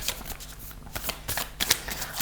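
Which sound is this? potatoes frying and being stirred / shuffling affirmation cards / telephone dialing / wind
shuffling affirmation cards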